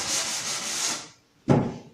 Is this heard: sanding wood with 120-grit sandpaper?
yes